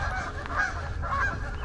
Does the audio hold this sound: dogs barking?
no